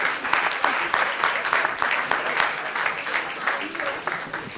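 A church congregation in Geneva breaks into sustained applause, a dense, loud clapping that pulses in waves throughout, mixed with voices calling out beneath it.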